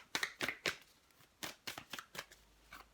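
Oracle cards are shuffled by hand close up: a string of soft, papery riffles and slaps arrives in uneven bursts, quiet and intimate, with brief pauses between handfuls.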